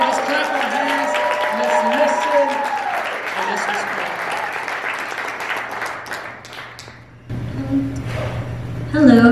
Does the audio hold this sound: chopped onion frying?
no